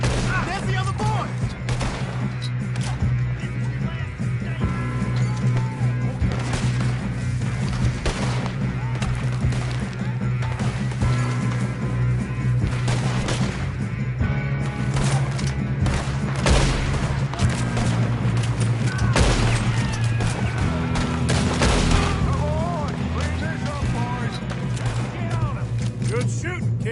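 A Red Dead Redemption shootout with gunfire, rapid shots and rifle cracks layered over a constant rumble, loud and sustained, with voices calling out over the din.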